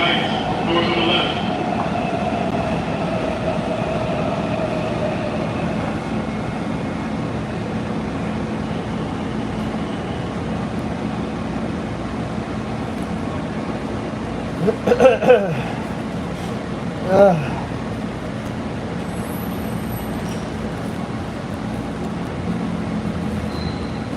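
A Washington Metro Red Line subway train near Friendship Heights hums and rumbles steadily along the track, with a few sharper clanks and squeals partway through and a faint high chime near the end.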